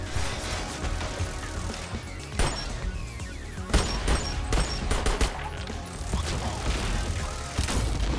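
Rapid bursts of gunfire in the video game Sentry, with dense volleys and sharp shots repeating throughout amid loud game action and impacts.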